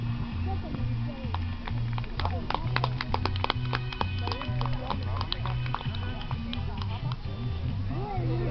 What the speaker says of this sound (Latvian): Ar iegūto 4. vietu tiek apbalvota Ruta Kuļikova ar zirgu Frau Vika.